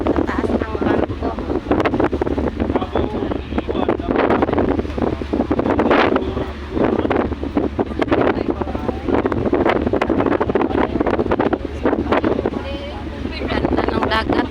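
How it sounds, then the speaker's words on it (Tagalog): Strong wind buffets the microphone on the upper deck of a 2GO passenger ship at sea, gusty and roaring in uneven bursts over a low hull rumble, with a voice talking faintly underneath. "Hangin, hangin."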